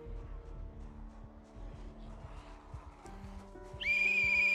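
A shrill steady whistle sounds from a whistle hat worn by a character in Project Zomboid, loud and sustained near the end over a busy game background of low hums and engine-like drones.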